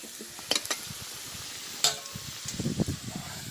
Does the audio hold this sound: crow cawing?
no